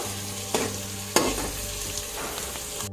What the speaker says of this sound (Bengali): একটু নেড়ে চেড়ে একটু লাল করে নেব